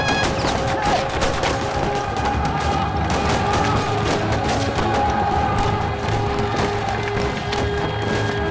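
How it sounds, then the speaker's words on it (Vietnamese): Heavy battlefield gunfire from a war action film, a dense nonstop fusillade of loud rapid shots and cracks filling the whole stretch with no pause. "Bắn, bắn ác liệt lên."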